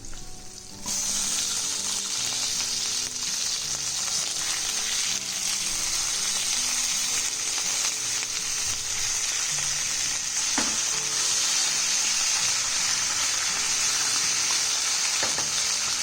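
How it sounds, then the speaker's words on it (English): Sliced large potatoes with their skins on frying in a pan, a loud, steady sizzle that starts abruptly and holds evenly throughout, with a few faint clinks and stirring sounds underneath. "So time to add in sliced potatoes."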